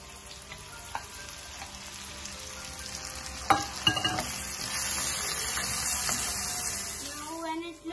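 Ginger garlic paste sizzling in a pan with melted fat, bay leaves and cardamom as it is stirred, a steady low frying hiss with a few utensil scrapes and clinks partway through.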